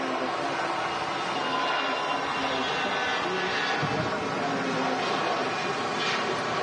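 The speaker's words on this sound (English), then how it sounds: "This TUI slightly naked plane is off to Brussels." A TUI Airbus takes off from Manchester Airport on a repositioning flight to Brussels, giving a steady, loud broadband jet roar that holds without a break.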